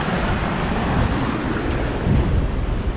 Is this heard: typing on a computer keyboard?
no